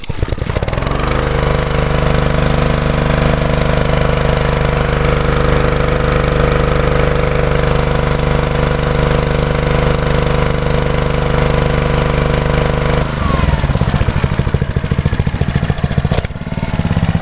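A petrol engine on a pressure washer restarts and settles into a loud, steady idle up close, with a continuous mechanical drone that shifts briefly near the end.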